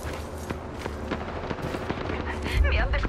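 Gunshots in the battle royale video game Apex Legends, scattered cracks and distant bursts under in-game voice chatter, with a heavier thump near the end.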